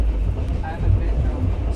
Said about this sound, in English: We are on a train and it is great.